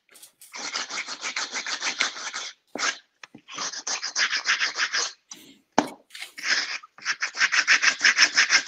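Sandpaper rasps back and forth over a workpiece in bursts of rhythmic scraping strokes, fairly close and steady, with brief pauses between passes and no talking. The paper is 80 grit, used to knock down high spots.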